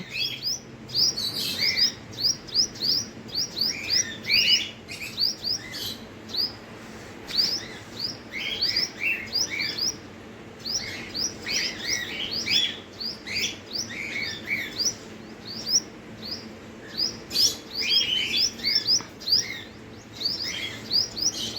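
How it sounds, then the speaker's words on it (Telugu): Many small birds chirp and tweet in quick, overlapping bursts throughout, a busy continuous chorus close by with no talking. "అరే ఎన్ని బర్డ్స్ వస్తున్నాయి చూడరా"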